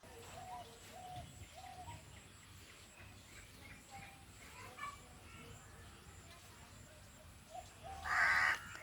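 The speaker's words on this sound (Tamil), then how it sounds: "இப்போ காக்கா" A crow caws once or twice near the end, over a low background murmur of distant voices and outdoor noise.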